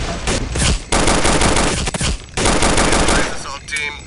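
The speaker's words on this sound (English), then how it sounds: "We are taking fire from the tunnel." Video game machine gun fire: loud, sustained automatic bursts close by, broken by brief pauses, with a faint radio-style voice at the end.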